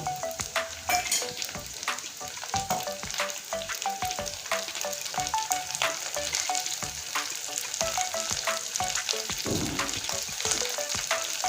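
Onion and slit green chillies fry in oil in a pan for kalmi shak bhaja, with a close, steady sizzle broken by frequent crackles and stirring scrapes.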